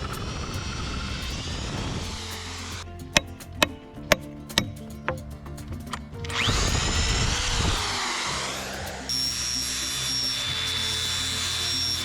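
Wooden fence rail ends are cut for a post and rail fence: a rasping cut, then a run of sharp evenly spaced knocks, followed by more grinding and whirring tool noise at moderate distance, no speech.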